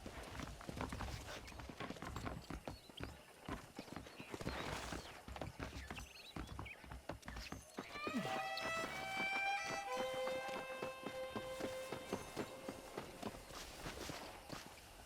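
Rhythmic horse hoofbeats in Red Dead Redemption clip-clop steadily at a trot over ground, joined midway by a bright chiming musical tone.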